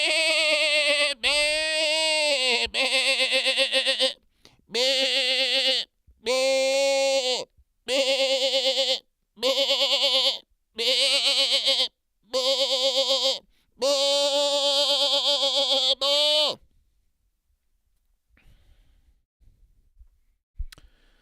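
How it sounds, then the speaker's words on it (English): Series of about ten loud, harmonic bleats in quick succession, each a second or so long with short gaps, near and clear, ending in near silence; sheep-like goat cries. "Let's hear the sound of the goat."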